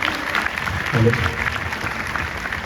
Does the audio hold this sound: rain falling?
no